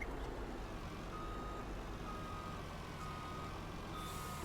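Steady electronic reversing beeps from a truck backing up in Farming Simulator 19, repeating evenly over a constant engine hum at moderate volume, with no voices.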